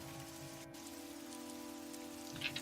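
Steady rain falls on surfaces as ambient background in a tabletop role-play session, a constant even hiss with a faint higher patter near the end, no voices.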